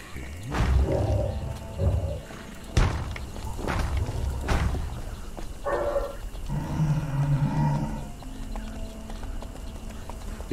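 Dogs in the video game Conan Exiles bark in repeated sharp bursts amid in-game ambience and footfall-like clopping, moderately loud and without speech.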